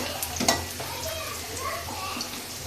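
Chopped onions sizzle steadily in a hot pan while a utensil stirs and scrapes now and then, a soft continuous frying hiss with a sharper clink near the start.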